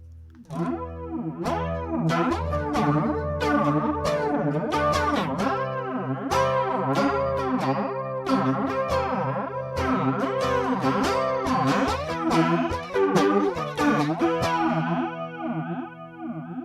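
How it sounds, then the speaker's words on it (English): A distorted electric guitar plays chords through a Pearl FG-01 flanger and DOD Carcosa fuzz, a swirling jet-like sweep rising and falling continuously under the notes. "it's kind of got that sort of sweeping flanger sound, but it's a bit more subtle"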